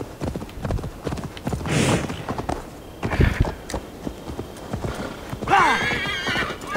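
A horse in the video game Assassin's Creed Valhalla clip-clops along with steady hoofbeats, then lets out a loud, close whinny near the end.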